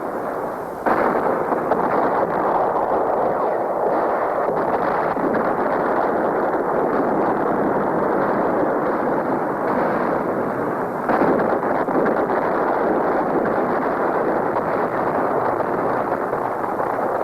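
Artillery shells exploding on the Marine ammunition dump at Khe Sanh during the Vietnam War make a loud, continuous rumbling roar of blasts and crackling that barely lets up, with a fresh surge partway through and no voices.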